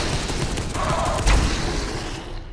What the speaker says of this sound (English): God, I love this plasma cannon.